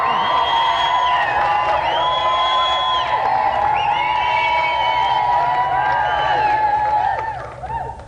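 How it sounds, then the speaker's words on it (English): Studio audience at a 1994 television games show cheers, whoops and claps for racing driver guest David Coulthard, a dense loud crowd roar with shrill voices riding on top, fading in the last second. "Another round of applause for our special guest, David Coulthard."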